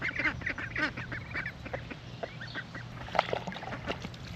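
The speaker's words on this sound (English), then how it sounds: "We've got the ducks in the water." Ducks quack and chatter in the water on a farm, a busy overlapping run of nearby calls with light splashing throughout.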